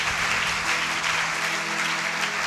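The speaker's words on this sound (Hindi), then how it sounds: "जोरदार तालियां बजाएं।" A church congregation applauds loudly during a pastor's sermon: a dense, steady wash of many hands clapping close by, filling the whole stretch with no voices over it.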